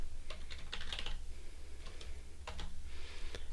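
Fingers tap quickly on a computer keyboard in short clustered bursts of clicks, close and fairly quiet, with brief pauses between runs and no speech.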